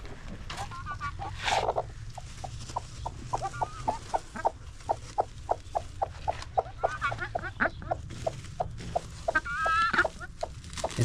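A broody hen sitting on eggs to hatch them clucks repeatedly in short, steady bursts, fairly close, with a low background hum and occasional higher squawks.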